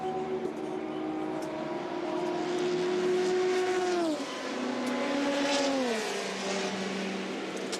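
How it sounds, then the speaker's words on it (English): Onboard the number 7 Toyota endurance prototype at the 24 Hours of Le Mans 2014, heading into the first chicane on the Mulsanne straight: a loud, steady high-pitched engine whine that drops twice as the car downshifts and brakes. "on board with the number 7 Toyota with Sarrazin, just going into the first chicane on the Mulsanne straight."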